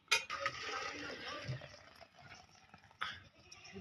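Pots and utensils clink and clatter in a kitchen while hot dal is poured into a can, with a sharp knock at the start and another near the end over quiet, busy handling.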